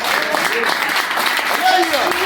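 A church congregation applauding, a broad spread of clapping with voices calling out over it, including someone speaking or exclaiming near the end.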